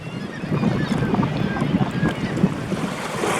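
A kayak crosses Kachemak Bay in Alaska, with steady wind buffeting and water sloshing close by as paddles dip, a continuous rough wash with no talking.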